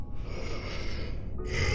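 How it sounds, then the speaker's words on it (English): Grunting from a character in the horror video game Dementia, a short, breathy, snorting exhalation heard close and alone against a low background hum. "That's not breathing, that's grunting."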